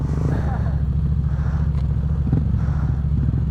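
Kawasaki 6R sport motorcycle being ridden, a steady close engine drone with low rumble under wind noise and muffled talking.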